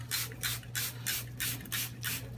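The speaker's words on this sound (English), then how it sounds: "right now I'm just spraying them really quick here" A spray bottle spritzes whiskey onto cheesecloth-wrapped, dry-aged baby back pork ribs in a rapid run of about five hissing bursts, each roughly a third of a second, close and steady with a low hum underneath.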